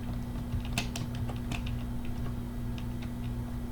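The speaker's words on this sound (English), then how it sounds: "so I'm just solving the cube now." A Rubik's cube turned quickly while being solved, giving faint, scattered plastic clicks and ticks in uneven bursts over a steady low electrical hum, with no one talking.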